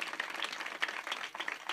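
A crowd at a devotional kirtan gathering claps together in a dense, steady patter of applause, fairly soft and somewhat distant, with no one speaking over it.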